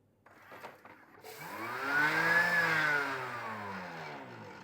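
A kitchen food processor on its turbo setting whirs up to a rising, high-pitched spin to fling mixture off the blades, holding a steady whine before easing slightly, heard alone.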